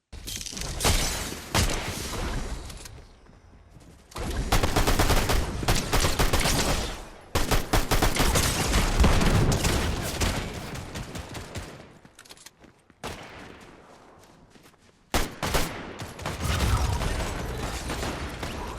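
Fortnite video game gunfire with shotgun blasts, loud and close, arriving in dense rapid volleys with sharp cracks and mechanical clatter, broken by short lulls, with no voices.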